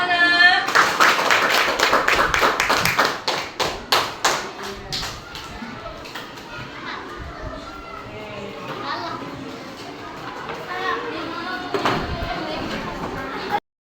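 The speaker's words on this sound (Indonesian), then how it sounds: "Kita kasih tepuk tangan, Nak." Students in an Islamic religious education class clap together in a quick, rhythmic pattern for several seconds, then the clapping fades and children's voices chatter, with a few scattered claps and taps later.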